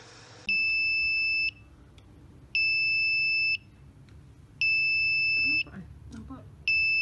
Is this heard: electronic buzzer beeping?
yes